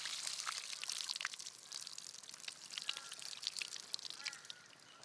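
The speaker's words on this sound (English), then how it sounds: "Tip the water off." Water splashes and trickles out in a continuous, uneven pour, fairly faint, with no talking.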